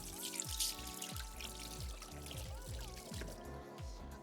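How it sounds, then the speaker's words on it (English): Water runs steadily from a kitchen tap while hands are washed, a continuous close trickle with splashing and repeated low gurgling pulses. "I will wash my hands."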